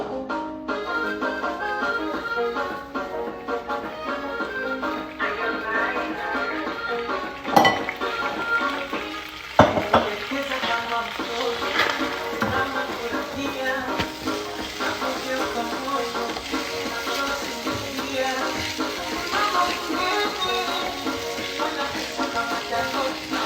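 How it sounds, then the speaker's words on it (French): Rice toasts in sunflower oil in a pan for Nigerian jollof, a continuous soft sizzle broken by occasional stirring scrapes and two sharp clinks of a utensil against the pan, with no talk. "Je vais juste essayer de griller le riz un tout petit peu pendant environ 5 minutes."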